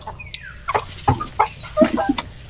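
Pet Peking ducks feeding on piles of ripe bananas give a string of short, close quacks and chattering calls, several in quick succession.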